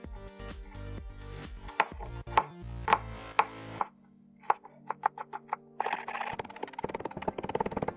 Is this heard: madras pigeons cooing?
no